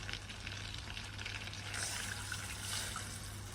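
Water is poured into a pan of just-melted butter while making choux pastry, giving a steady, soft trickling and sizzling wash that swells slightly midway.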